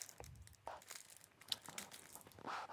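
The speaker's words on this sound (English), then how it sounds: "This is where we get into the cards and unwrap these bad boys." Plastic shrink wrap being peeled off a deck of board game cards, with quiet, close crinkling and tearing in short irregular bursts and no voices.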